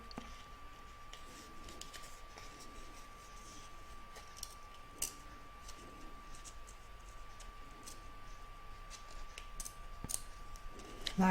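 Scissors cutting through wash-away stabilizer during in-the-hoop embroidery, heard as faint, soft snips and occasional clicks of the blades over a low steady background hum, close but very quiet.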